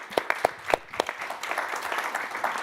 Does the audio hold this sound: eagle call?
no